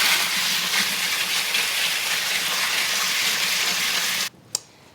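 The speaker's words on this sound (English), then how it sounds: "I'm just going to rinse them very carefully." Water pours steadily over strawberries being rinsed, a loud continuous hiss and gush that stops abruptly near the end, followed by a faint single drip or clink.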